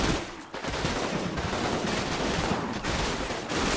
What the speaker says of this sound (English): Some of that sounds like medium machine guns as well